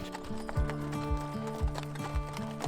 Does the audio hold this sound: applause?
no